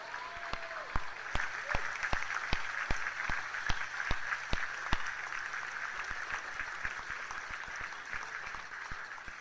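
An audience applauds sponsors at the NASA Human Exploration Rover Challenge awards ceremony. Steady crowd clapping runs for nearly ten seconds, with a few sharp, close individual claps standing out early and the applause gradually thinning.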